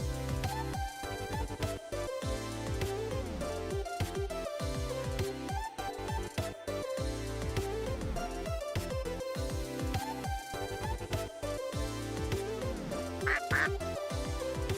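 Cartoonish duck quacks repeat rapidly and loudly over a bright, busy musical backdrop in the video game Monster Prom 4, the calls stacking into a near-continuous chorus with no speech.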